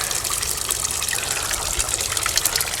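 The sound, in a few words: water flowing through overflow drain into sewer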